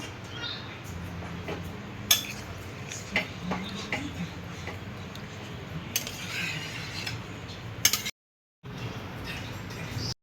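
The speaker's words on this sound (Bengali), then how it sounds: "একটু নাড়িয়ে দেবো।" Ghugni made with goat fat being stirred in a cooking pot, a steady background of sizzle with scattered metallic scrapes and clinks of the spoon against the pot, briefly cutting to silence near the end.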